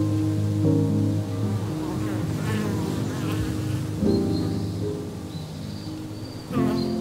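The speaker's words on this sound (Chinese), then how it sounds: "在接近林冠的过程中，你就能听到各种蜂蝶的声音，" Bees and other insects buzzing near the canopy of a tall tropical rainforest tree in flower, a dense, loud, continuous drone with wavering overlapping tones as individual insects pass close by.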